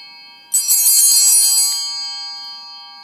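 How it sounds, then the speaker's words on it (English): Hand bells rung slowly and loudly by twisting, a bright cluster of overlapping metallic strikes for about a second, then a long clear ringing decay fading away. "The bells sound the best when you let your arm hang straight down and twist them back and forth"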